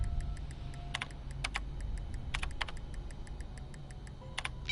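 Keys tapped out in uneven bursts on a computer keyboard while a password is entered in the Friday the 13th video game, crisp close clicks over a low background hum, with no voice.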